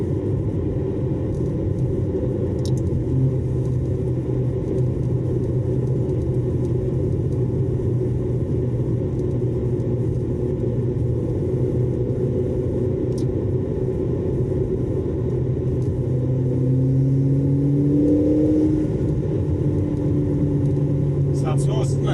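A 2020 McLaren GT fitted with a titanium exhaust and remapped engine rumbles steadily while driving on the road, a low, continuous drone heard from inside the car with slight tonal shifts as gears change.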